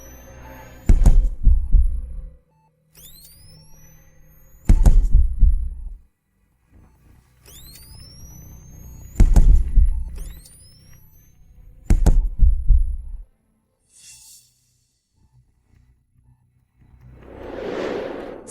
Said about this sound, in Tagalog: Ang tibok ng puso ay mas mababa sa 80